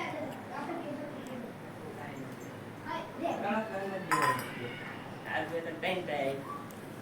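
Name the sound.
stirring paneer curry with chili powder in a pan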